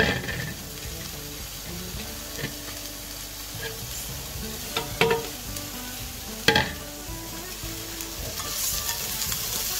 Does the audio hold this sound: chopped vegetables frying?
yes